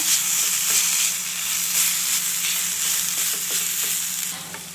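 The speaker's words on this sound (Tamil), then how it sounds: "இஞ்சி பூண்டு பேஸ்ட் பச்சை வாடை போகிற வரைக்கும் கொஞ்சம் வதக்கிக்கோங்க" Ginger garlic paste fries in a pan for veg momos, a bright continuous sizzle with a few soft stirring scrapes, close and steady with no voices.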